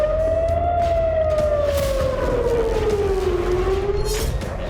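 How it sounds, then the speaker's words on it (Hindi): An air raid alert siren wails across northern Israel during Hezbollah attacks, a loud steady tone that slowly rises and falls, sounding on its own over a constant background rumble. "बीती रात पूरे उत्तरी इजराइल में एयर अलर्ट सायरन बजता रहा।"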